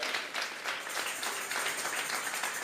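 Congregation applause during a church service, a dense, steady wash of many hands clapping fills the space at moderate distance with no voices over it.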